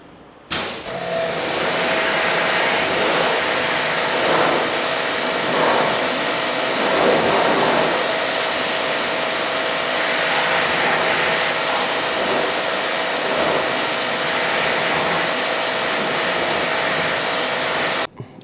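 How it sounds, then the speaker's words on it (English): A steady, loud spray of water rinses Auto Fanatic 007 Snow Storm car shampoo foam off a car in Manila. The rush runs unbroken for about seventeen seconds, close to the microphone, with no talking. "We're gonna rinse this side now."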